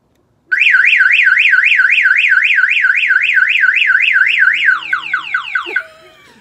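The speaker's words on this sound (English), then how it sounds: "I have an alarm system now." A Viper car alarm on an Acura RSX wails loudly in a fast rising-and-falling siren cycle, then switches to a series of quick descending chirps before cutting off.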